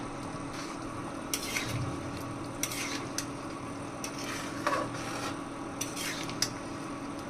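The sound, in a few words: stirring chicken soup in a pot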